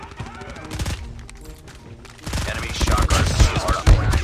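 Rapid automatic gunfire from a Fennec submachine gun in the mobile shooter Call of Duty Mobile, in close, loud bursts that grow denser in the second half, with other game sounds around them.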